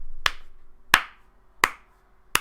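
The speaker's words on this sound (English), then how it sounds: "That's me clapping." Four sharp, separate claps spaced evenly apart, crisp and close, with quiet between each one.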